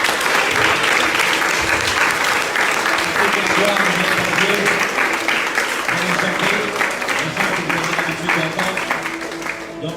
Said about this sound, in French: J'aimerais juste que chacun d'entre nous puissions applaudir notre roi ce matin.